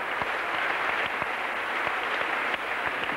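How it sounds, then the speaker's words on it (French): Crowd applauding gymnast Éric Poujade in the Coubertin arena at the 1994 French championships, a dense, steady wash of clapping from a large audience, fairly distant, with occasional louder individual claps. "Éric Poujade, très applaudi par le public de Coubertin"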